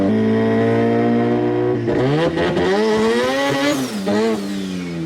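Boosted rotary engine in a Suzuki Samurai pulls hard on a highway, a loud, close, continuous engine note with rising and falling revs and no talk over it.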